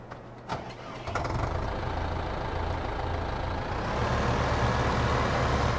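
A tractor engine in Farming Simulator 15 cranks over and catches, then settles into a steady, loud low rumble that swells slightly toward the end, with no talking.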